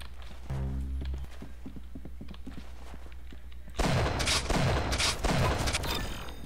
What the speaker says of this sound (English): did they really just nerf the SMG like that? It shoots really slow now